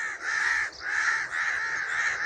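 Three long, harsh caws from a nearby crow repeat in steady succession on a village morning, loud and alone with no talk.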